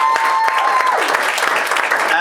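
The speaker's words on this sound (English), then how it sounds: "a round of applause for Michael" Audience applause for a guest named Michael at a motivational talk, a dense patter of clapping filling the whole stretch, fairly loud and close, with a voice briefly audible over it.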